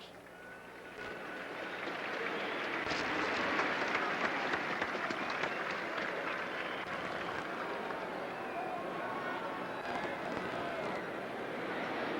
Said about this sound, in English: let's send these youngsters to the division competition with a nice round of applause